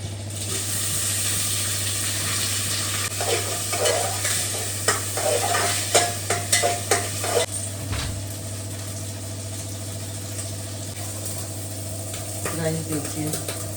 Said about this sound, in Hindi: बटर में रोस्ट करके कितने खिल गए चावल